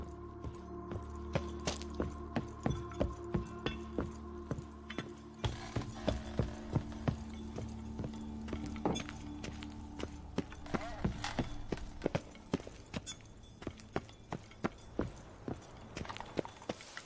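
Horse hooves in The Witcher 3 video game, a steady run of close clip-clop hoofbeats on hard ground that continues throughout, growing sharper and more evenly spaced in the later part.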